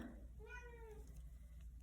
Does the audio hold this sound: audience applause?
no